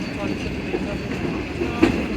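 The Shalimar Express passenger train rolls along its tracks at reduced speed, a steady low rumble heard from inside the carriage, with a faint muffled clack or two and background voices.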